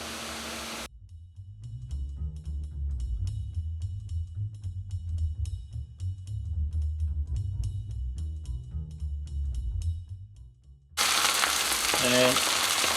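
Garlic paste for chicken tikka masala sizzles in a pan with a continuous crackling hiss, muffled through the middle and bursting brighter and louder at the start and end.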